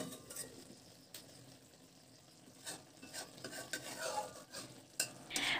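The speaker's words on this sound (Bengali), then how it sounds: "বন্ধুরা, তরকারিটাকে এভাবেই হালকা হাতে নাড়াচাড়া করবেন।" A fish curry being gently stirred in a pan, with soft scraping and occasional light clinks of a utensil over a faint low simmer, quiet and close.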